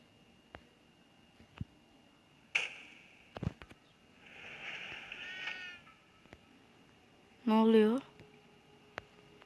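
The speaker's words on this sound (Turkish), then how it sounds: "Kedi burada." A single short cat meow rings out clearly near the end, amid sparse game sound effects, clicks and a soft whooshing tone, in the game The Baby in Yellow.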